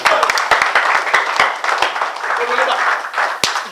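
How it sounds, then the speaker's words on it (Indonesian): An audience claps for a presenter at a talk, with sharp individual claps over a broad wash of applause that tapers off, and voices speaking alongside it. "Tepuk tangan untuk Bapak Peter."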